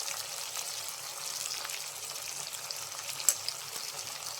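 Coriander powder and other ground spices fry in a pan for an okra, drumstick and mango curry, making a soft, continuous sizzle with a faint scrape of stirring near the end.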